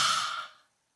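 A single forceful breath exhaled as part of a children's dragon fire-breath exercise, a loud close airy rush that fades out within a second, then silence.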